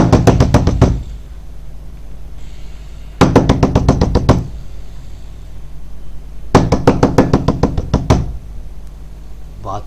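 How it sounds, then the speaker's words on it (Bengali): A bathroom door is pounded from the inside in a horror sound effect: three loud bursts of rapid, heavy knocking separated by short pauses of dull silence. "বাথরুমের দরজায় কে যেন বাথরুমের ভেতর থেকে ধাক্কাচ্ছে"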